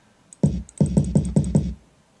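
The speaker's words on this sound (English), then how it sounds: "bass drum kick." A bass drum kick sample in a hip-hop beat hits five times in a steady, evenly spaced rhythm, each a loud, punchy low thump with a quick decay and nothing else around it.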